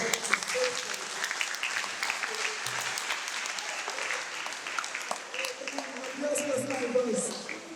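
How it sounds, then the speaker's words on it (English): At a breast cancer awareness event, an audience delivers a warm, sustained round of applause with scattered voices and cheers mixed in, swelling slightly toward the end. "So please, a round of applause."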